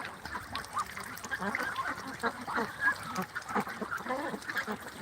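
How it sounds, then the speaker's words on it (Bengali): A dense flock of around six hundred ducks on a duck farm keeps up a constant chorus of overlapping quacks and honks, moderately loud and close. "আমাদের খামারে প্রায় ছয়শো হাঁস আছে"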